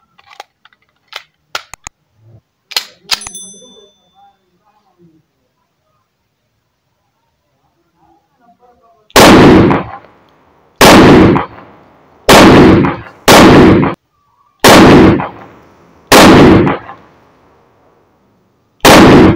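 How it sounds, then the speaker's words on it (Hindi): Seven loud pistol shots from a 30 bore Zigana and a Beretta 92fs crack out at steady intervals of about a second, following a stretch of faint clicks and handling noises at the start. "10 राउंड जो है सिंगल फायर करूँगा और 5 राउंड्स हैं इसमें, तो वो ब्रश पे फायर करने की कोशिश करूंगा दोस्तों।"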